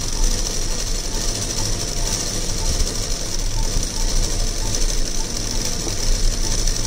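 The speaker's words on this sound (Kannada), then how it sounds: "ಎರಡನ್ನು ಹಿಡ್ಕೊಂಬಿಟ್ಟು ಸ್ಟಿಚ್ ಹಾಕೊಂಬಂದ್ಬಿಡಿ" A sewing machine stitches the lining to the main fabric of a langa (long skirt) made from a saree, running steadily and continuously throughout with a dense mechanical whir close by.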